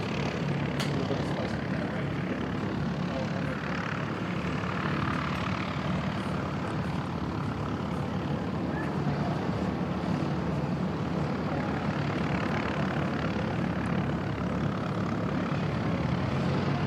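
Continuous roar of aircraft engines at Christchurch Airport, New Zealand, with a German Air Force A400M and an ATR nearby, a broad steady rumble heard from a distance without pause.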